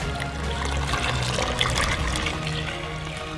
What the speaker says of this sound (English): grab it like this and pour it straight in